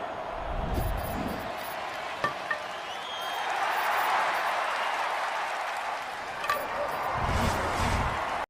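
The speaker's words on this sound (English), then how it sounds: "the crowd giving the Phillies a big round of applause" Spectators at a major league baseball game between the Astros and Mariners applaud across a ballpark. The clapping is distant and steady, and a radio announcer speaks over it.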